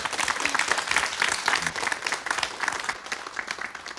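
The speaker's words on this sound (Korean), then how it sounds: "여러분 따뜻한 박수를 좀 보내주지 않겠습니까?" On a Korean KBS television program, a studio audience gives warm applause. The clapping is moderately quiet, full and continuous, and lasts about four seconds without any speech.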